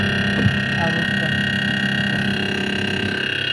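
A refrigerator freezer combo gives off a steady electrical hum and vibrating drone, constant and close throughout.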